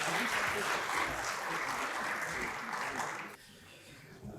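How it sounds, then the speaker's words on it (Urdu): An audience at an international conference opening session applauds steadily for several seconds, a dense wash of clapping that cuts off sharply near the end, leaving quieter room sound. "آپ کی بھرپور تالیوں میں"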